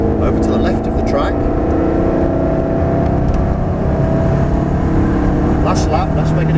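A Ferrari or Audi R8 sports car accelerates on a race track, its steady engine drone loud and close throughout, with people talking over it.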